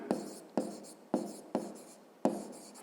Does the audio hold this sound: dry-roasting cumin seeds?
no